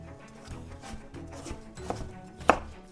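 A knife chops vegetable slices into cubes on a board, striking in a loose, steady rhythm of close, dull taps that ends with one sharper, louder hit.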